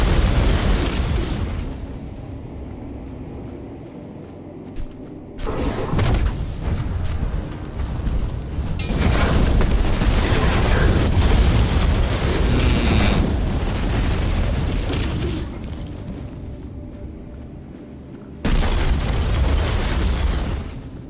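Heavy booming explosions from the PC fantasy game Tainted Grail: The Fall of Avalon, with several loud bursts swelling over a dense rumbling battle soundscape, and no talk.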